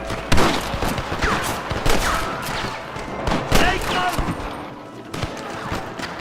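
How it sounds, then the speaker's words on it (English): Gunfire in the video game Red Dead Redemption, dense overlapping shots and booms in a rapid volley, loud and close, with a character talking over it. "Are you gonna shoot any of these rustlers, boy? Nice shot!"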